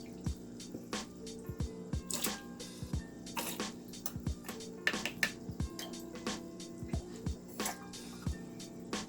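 Liquid drips from a pipette into a container of plant water, a series of small irregular plinks and drops close up, quiet and alone with no talk.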